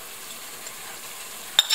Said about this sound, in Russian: Тоже, чтобы зажаривалась у нас морковочка.